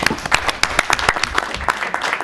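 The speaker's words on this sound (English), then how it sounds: "let's give the audience a huge round of applause" A round of applause from the audience at a parenting panel with rabbis, loud and close, with distinct individual claps in a quick, uneven rhythm over a short burst.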